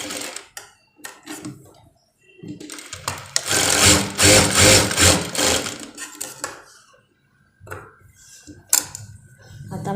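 A sewing machine stitches a four-tuck blouse in size 34, running in quick rattling bursts with a longer steady run in the middle, separated by brief pauses and light handling noises.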